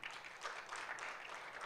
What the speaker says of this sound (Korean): 우리 방송실에 박수를 한번 쳐줄까요?